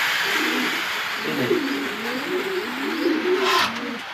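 Racing pigeons at a breeding loft coo steadily in low, rolling, overlapping calls, close by and fairly loud, with no voices.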